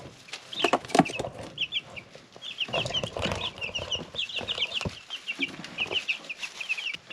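Chickens cluck repeatedly in short, close bursts over a busy farmyard background, with some bumps and rustling; no talking.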